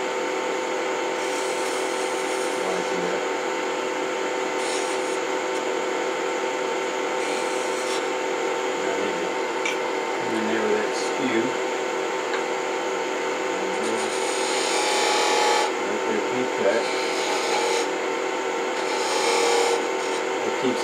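A quarter-inch detail gouge shapes beads on a wooden chess piece spinning on a lathe, producing a continuous close scraping and rasping of the cut over the machine's steady hum, with brief shifts in intensity.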